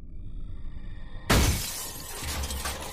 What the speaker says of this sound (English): someone hurled a concrete block through the glass door of her home